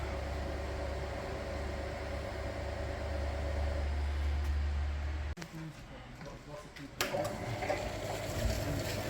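A cooling system flushing machine runs on an Opel Vectra B 2.2 TDI hooked to the heater radiator, a steady low hum that cuts off abruptly partway through before noisier clatter resumes, with a person talking over it.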